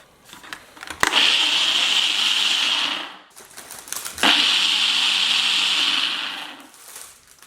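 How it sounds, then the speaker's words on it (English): Blender running on a beetroot, pomegranate juice and fat-free yogurt smoothie in two bursts of about two seconds each, loud and close, each opening with a click before a steady whirring roar. "Then it's ready to be blended."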